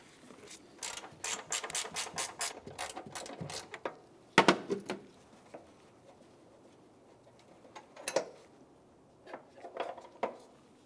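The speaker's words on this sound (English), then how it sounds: "let's continue on with removing our 13mm lower bolt" A ratchet clicks in quick repeated bursts while backing out the 13mm lower bolt of a hood spring on a 2000-2006 Chevrolet Tahoe, close and fairly loud, then fades to a few scattered clicks and handling sounds.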